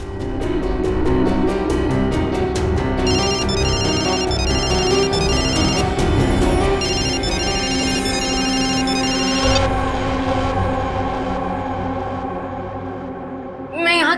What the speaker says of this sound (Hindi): पायल का ये फोन, इसका रिंगर, ये ट्रिगर है